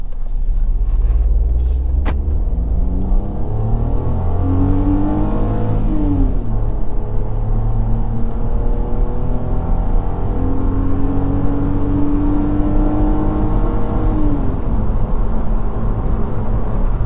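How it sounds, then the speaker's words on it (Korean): A Hyundai Casper with the 1.0 naturally aspirated engine accelerates hard at night, its engine note rising steadily through the gears with loud, close drone and road rumble, no talk. "본격적으로 주행하기에 앞서서 한번 가속 테스트를 한번 해볼게요."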